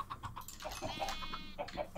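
A Minecraft sheep gives a short, quavering bleat, with a few soft blocky clucks and thumps from nearby farm animals in an enclosure around it.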